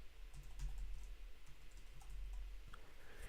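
Computer keyboard typing while entering a search for a trading indicator: a faint, quick run of soft key clicks in a quiet room, with no voices.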